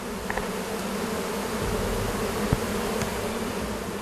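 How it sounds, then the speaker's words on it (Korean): A swarm of wild Korean honeybees guarding a cliffside hive, buzzing densely and continuously up close, a loud steady hum with occasional louder passes of single bees. "벌집을 지키고 있는 꿀벌들을 침착하게 연기로 쫓아내야 한다."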